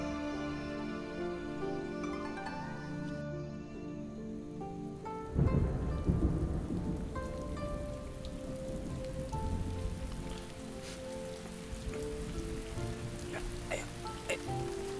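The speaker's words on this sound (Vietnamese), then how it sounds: "trời mưa rồi" Rain falls with thunder in a period drama scene. Music plays first, then a sudden loud thunderclap breaks in, followed by a steady hiss of rain with occasional rumbles continuing under the music.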